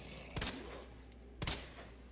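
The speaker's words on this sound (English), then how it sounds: "I shot Marvin in the face" Gunfire in the video game Resident Evil 2: two loud, sharp shots about a second apart over a steady low game ambience.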